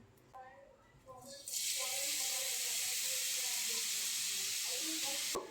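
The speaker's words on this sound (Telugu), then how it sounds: "ముందుగా తురిమి పెట్టుకున్న ఈ క్యారెట్ని ఈ గీలో వేసి ఒక ఫైవ్ మినిట్స్ వరకు ఫ్రై చేసుకోవాలి" Grated carrot hits hot ghee in a pan for carrot halwa, setting off a loud, steady sizzle that starts abruptly and holds, while someone talks over it.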